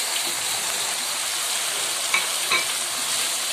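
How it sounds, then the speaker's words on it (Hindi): Chicken fries with softened tomatoes in a pan as a loud, steady sizzle, with a couple of faint spoon scrapes as it is stirred. "ये इसमें डाल के मैं अच्छे तरीके से इसको फ्राई करूंगी।"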